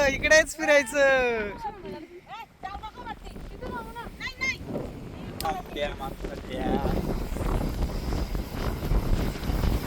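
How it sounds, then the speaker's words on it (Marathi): Strong wind at Malshej Ghat buffets the microphone with a steady low roar, while people talk loudly over it near the start. "मग कसा वारा इकडे?"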